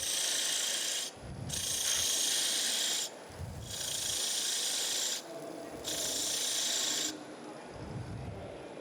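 Timber is reduced on a wood lathe with a tool rasping against the spinning workpiece in repeated strokes, each a couple of seconds long, separated by short low-pitched pauses where the lathe hums.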